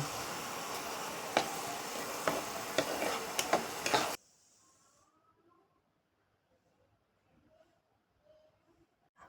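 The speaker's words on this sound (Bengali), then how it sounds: "ভালো করে কষিয়ে নেব যতক্ষণ না মশলা থেকে তেল ছাড়তে শুরু করে" Tomato paste and mustard masala sauté noisily in a pan for about four seconds, crackling with sharp stirring taps, then the sound cuts to near silence.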